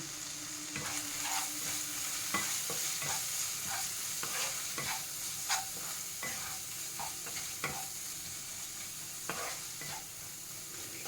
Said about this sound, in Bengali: দিয়ে দেবো অল্প হলুদ আর পরিমাণ মতন লবণ, দিয়ে ভালো করে কষিয়ে নেব